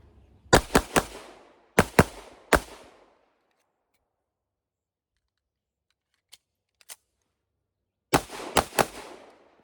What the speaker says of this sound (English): So we're going to make ready for live fire, and then we'll start.